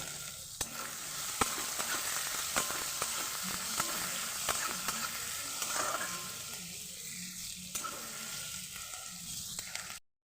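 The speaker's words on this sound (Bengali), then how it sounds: "এবার পেঁয়াজগুলোকে ভালো করে আমি ভেজে নেব" Thinly sliced onions, three of them, fry in hot oil for a paneer chana masala, a steady close sizzle with scattered stirring scrapes and clicks running the whole way.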